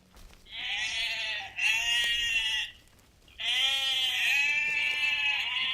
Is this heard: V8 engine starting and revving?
no